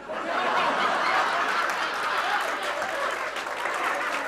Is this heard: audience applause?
yes